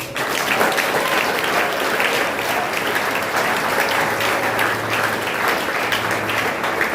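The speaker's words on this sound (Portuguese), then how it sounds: "Aplauda o nome do Senhor" A church congregation at an Easter service applauds, a loud, sustained wash of clapping from many hands that continues steadily.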